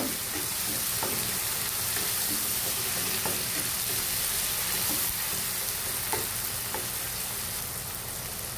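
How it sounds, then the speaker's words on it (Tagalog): Tomatoes frying in a pan with a steady, dense sizzle, punctuated by occasional soft clicks and scrapes of stirring, continuous and close with no talk. "Kailangan maluto-luto yung ating kamatis. Madurog."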